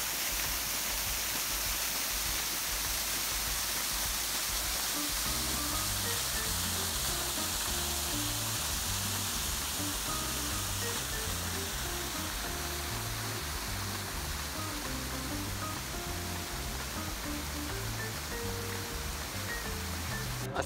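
Waterfalls near Charlottesville, Virginia roar in a dense, unbroken rush of falling water, close and steady throughout, with a faint low mechanical pattern beneath and no voices.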